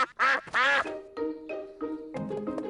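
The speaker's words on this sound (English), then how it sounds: "The ducks are swimming in their pond." Cartoon ducks quacking on a boat pond: two loud, close quacks, followed by softer, lower overlapping quacks and honks.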